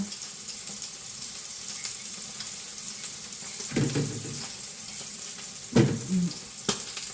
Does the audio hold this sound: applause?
no